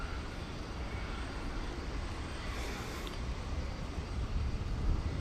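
A jet airplane lands on runway 18 right at DFW at night, a steady broadband engine roar heard from nearby, slightly swelling toward the end, with no voices.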